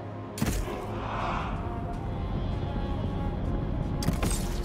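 Bursts of gunfire crackle at the start and near the end in Total War: Pharaoh, over a steady rumbling background of battle noise.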